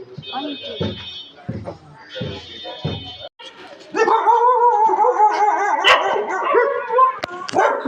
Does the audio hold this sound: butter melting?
no